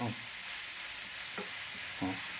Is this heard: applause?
no